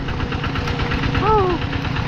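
A farm tractor used to haul people over a muddy, rain-soaked track runs with a steady, throbbing knock that continues throughout, while a brief voice or call rises over it near the end.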